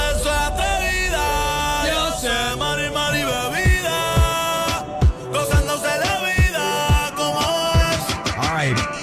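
A reggaeton song plays with vocals, synths and thumping bass hits, loud and full, with a sung line near the start.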